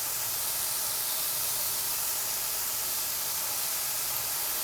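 Diced Yukon Gold potatoes fry in a pan for brisket hash, giving a steady, even sizzling hiss that stays constant and close throughout, with no voices.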